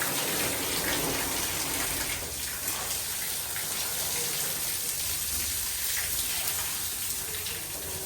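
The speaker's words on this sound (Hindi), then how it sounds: "तो दोस्तों यहाँ पे पानी भरा जा रहा है।" Water gushing steadily from a pipe to flood a room before flooring is laid, a constant broadband splashing hiss at moderate level with no pauses.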